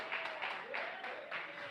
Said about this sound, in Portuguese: Palmas de vitória para Jesus de Nazaré.